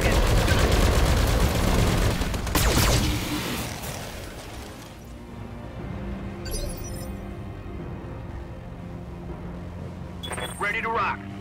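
Mech weapons fire on a target in BattleTech, a loud barrage of shots and blasts in the opening seconds, then quieter mechanical rumble with a few sharp cracks near the end.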